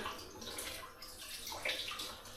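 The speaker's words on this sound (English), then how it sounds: "Now we'll have to stir the wine." Homemade wine being stirred in a container, a soft continuous sloshing and swirling of liquid with faint splashes, heard close and quiet with no talking.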